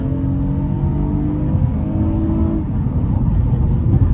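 A 2020 Acura TLX V6 SH-AWD accelerating at full throttle in Sport Plus mode, heard from inside as a loud, steady engine drone with a rising harmonic tone, no talking over it.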